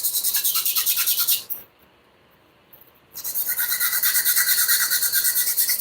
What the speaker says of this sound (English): now we're gonna take a 80 to 100 grit nail file